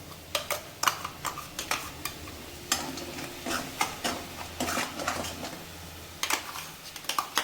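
Tomato paste is stirred into sautéed onions in a pan, with a steady run of quick spatula scrapes and clicks over a soft sizzle, close by and fairly quiet.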